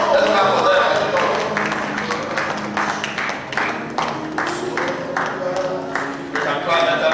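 A church congregation claps together through a sermon service, a steady crowded patter of applause that swells and fades, with music and voices mixed underneath.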